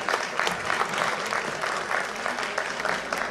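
Audience applause at an ancient-world historical reenactment demonstration, a steady crowd clapping throughout, moderately distant and even, with no talk over it.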